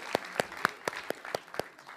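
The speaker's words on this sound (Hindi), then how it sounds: "युवा नेता, ताली बजाइए दोनों के लिए" A television debate audience claps for two young speakers: a short, sparse run of distinct claps, about seven evenly spaced strikes, sounding thin and moderately close.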